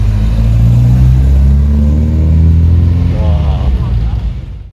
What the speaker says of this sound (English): Here comes the little MGB